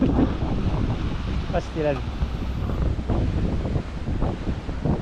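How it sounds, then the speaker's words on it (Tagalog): Steady wind buffets the microphone in a constant roar, with a voice speaking briefly in Tagalog underneath. "Mahangin dito ngayon"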